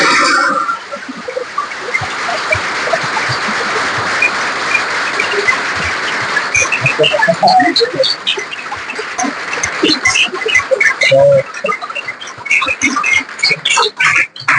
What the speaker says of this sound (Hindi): तो एक बार जोरदार तालियां सर के लिए।